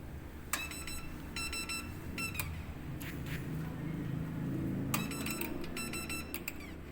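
Laboratory instrument timer being switched on for a 15-minute incubation, giving short bursts of rapid, high electronic beeps in several separate trains over a low background hum, with no speech.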